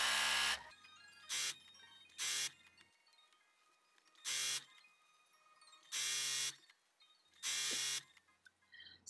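Fast buzzing runs of a sewing machine stitching Liberty Tana Lawn tissue-weight fabric into micro welt trim, five or six short bursts separated by quiet pauses, close and distinct.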